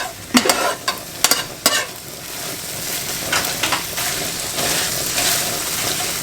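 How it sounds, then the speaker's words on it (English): A vegan tofu-style scramble fries in oil in a pan, with a steady close sizzle and several sharp spatula clacks and scrapes early on, then an even frying hiss with small pops. "let it fry until the bottom is crispy brown"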